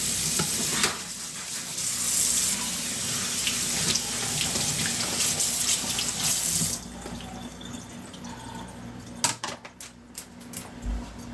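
A tap runs into a sink as a plastic cutting board is washed under it, a loud close hiss of water that shifts and splashes as the board moves, then becomes intermittent near the end.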